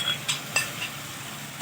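Masala frying in a pan for a chicken malai boti recipe: a soft continuous sizzle with a few quick scraping stirs of a spoon against the pan, close up and without talk.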